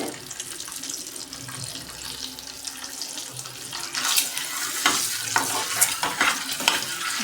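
Eggs frying in hot oil with turmeric and red chili powder give a steady bright sizzle and crackle that grows louder midway, with stirring scrapes and no talk over it.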